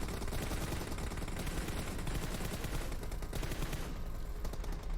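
Rapid gunfire from the mobile battle-royale game PUBG Mobile, a dense continuous burst of loud automatic shots filling the whole stretch with no speech.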